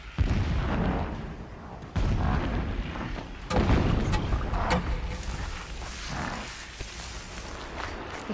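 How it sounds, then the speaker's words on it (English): Deep booms and blasts rumble at intervals, several heavy explosions at a distance over a low background roar, in the video game Horizon Zero Dawn. "Explosions in the distance."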